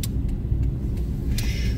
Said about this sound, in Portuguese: Olha ali o Golf passando.